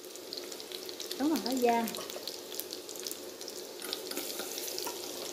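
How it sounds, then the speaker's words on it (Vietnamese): Garlic frying in oil in a cooking pot gives a steady, moderate sizzle, with a voice speaking briefly over it near the start. "mình cho vào miếng dầu, mình cho vào miếng tỏi"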